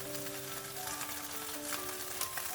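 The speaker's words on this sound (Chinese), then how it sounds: "煎至土豆、鸡蛋两面金黄，像这样就可以了。" Diced potato and egg frying in a pan give a constant close sizzle with light crackles and a faint steady tone beneath.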